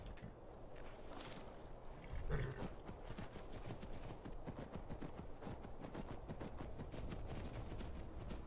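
Horse hooves clopping at a steady rhythm in the modded video game Skyrim, close and continuous with soft ambient game sounds beneath.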